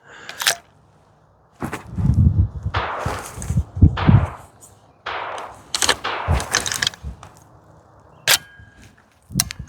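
A CMMG AR .22 LR pistol fires a series of sharp, loud reports at uneven intervals, close by, with one round failing to eject and chamber the next.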